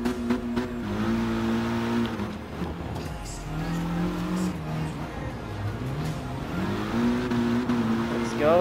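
A rally car engine in Gran Turismo Sport on an off-road course, droning and revving up and down steadily through gear changes, loud and continuous throughout.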